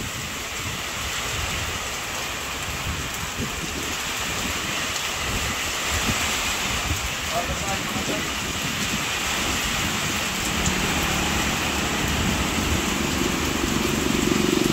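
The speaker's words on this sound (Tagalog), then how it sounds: "Wala pong tigil ang ulan." Dense, constant hiss of heavy rain out at sea with a windy roar beneath it, steady and loud throughout without pauses.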